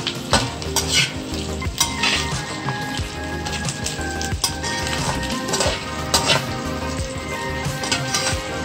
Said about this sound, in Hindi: इन्होंने ज़्यादा फ्राई नहीं करना ताकि ज़्यादा मेल्ट ना हो जाए।